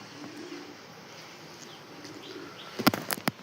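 Pigeons near the coop, a quiet soft hum of activity followed by a few sharp close wing flaps and flutters at the end.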